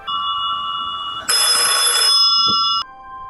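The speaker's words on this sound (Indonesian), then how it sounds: "Bunyi telepon berdering dan ia mengangkatnya." Telephone rings in a horror film, a loud electronic tone that holds steady and then swells into a brighter, harsher ring before cutting back to a softer tone.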